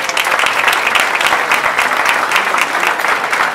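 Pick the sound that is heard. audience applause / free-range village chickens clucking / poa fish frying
audience applause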